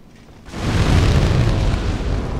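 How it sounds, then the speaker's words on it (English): A barrel exploding in the Demon's Souls video game, a loud, sustained booming rumble that swells up suddenly and keeps roaring heavily, with no talk over it. "So hit the barrels so that they explode"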